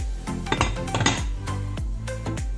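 A metal lid is set back onto a pot of dorado fish paksiw cooking on the stove, several clanking, rattling metallic hits over a couple of seconds, close and fairly loud with no talk.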